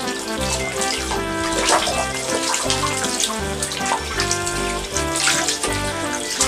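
Water splashes and churns in a bathtub full of water during a bath, a loud, continuous wash of sound that runs unbroken for several seconds.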